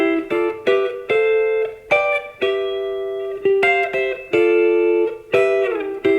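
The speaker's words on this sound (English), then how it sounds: "there are also triple stops or 3-note chords, and they sound something like this" Electric guitar three-note chords struck one after another in an uneven rhythm, each ringing briefly before the next, clean and fairly loud with no talking.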